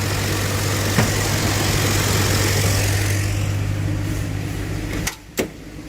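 A 1982 Ford Granada engine idles steadily with a low, even hum, its choke having been adjusted to bring the idle down, then cuts out briefly near the end with a couple of short knocks.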